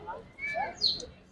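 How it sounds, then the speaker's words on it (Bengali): Sulphur-crested cockatoos call in a zoo enclosure with a few short, scratchy squawks and chirps, moderately distant, among faint background voices. "এখানে রয়েছে সালফার ক্রেস্টেড কাকাতুয়া।"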